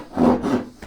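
A hand saw rasps back and forth along a dovetail line in a piece of wood clamped in a vise, a couple of short, close strokes with no talking.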